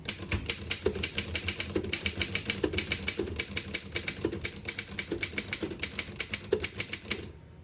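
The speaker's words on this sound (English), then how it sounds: "Beautiful typing machine." Rapid, steady clacking of a 1920 Underwood No. 5 desktop typewriter's keys, a run of sharp mechanical strikes close by with no voices, stopping near the end.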